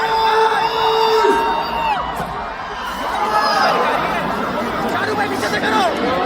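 A large crowd cheers, whoops and yells at a live Shah Rukh Khan show at Global Village Dubai, loud and continuous with a shouting voice over the roar.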